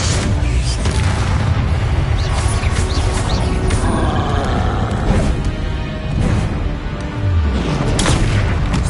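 A Bombarda explosion spell in Hogwarts Legacy bursts in heavy, crashing booms. The combat noise stays loud and continuous for several seconds, with repeated impacts layered over it.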